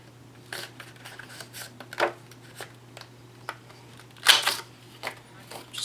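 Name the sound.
corner punch punching card paper corners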